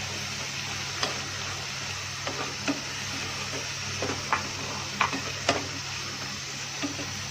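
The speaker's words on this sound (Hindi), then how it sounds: "इसमें चम्मच हिलाना है ताकि स्पाइसेस भी है वो कच्चे ना रहे" A spoon stirs spices frying in a pan for potato and eggplant curry, giving a steady close sizzle punctuated by repeated light scrapes and taps of the spoon against the pan.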